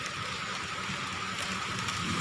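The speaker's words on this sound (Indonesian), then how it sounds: "Ni tengah hujan lagi guys." Steady rain falls outdoors in Malaysia as a soft, even hiss of drops, faint and continuous with no talking.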